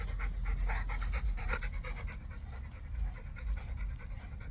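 A Rottweiler named Diesel pants rapidly and rhythmically close by, each quick breath clearly separated, with no talking.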